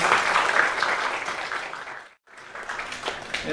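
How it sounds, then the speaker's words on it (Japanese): Audience applause at a commemoration for the 160th birth anniversary of Ozaki Yukio, attended by Japanese parliamentarians, a steady roar of many hands clapping that cuts out briefly to near silence before resuming at full strength. "どうぞ皆さん拍手を送ってください。"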